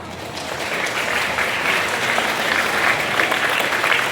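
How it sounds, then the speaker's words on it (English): Loud, dense applause fills a graduation hall as the audience stands to honor parents and guardians, a steady unbroken wash of many hands clapping at close range for about four seconds. "let us all stand and give a round of applause to our dear parents"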